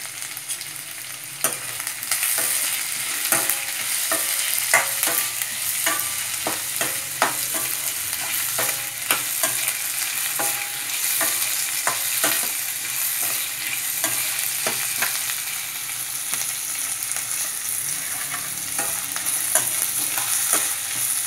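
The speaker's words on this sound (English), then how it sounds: "For a quick and easy way for the onions to heat up, you can add little salt to it, which can easily make the fry possible." Onions fry with salt in a pan for a Hyderabadi-style mutton curry, a steady loud sizzle punctuated by frequent sharp scrapes of a spoon stirring.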